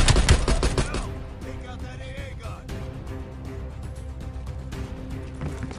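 Automatic gunfire in Call of Duty Black Ops Cold War, a loud dense burst of rapid shots for about a second, then fading into quieter battle ambience and music.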